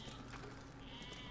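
Sheep bleating in the video game Besiege, faint and far off under a steady background wash, one short bleat.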